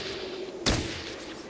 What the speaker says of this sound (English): We're gonna see if we can surprise him with a shotgun.